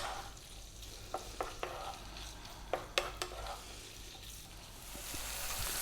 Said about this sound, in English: In goes the bacon, 4 minutes, medium heat.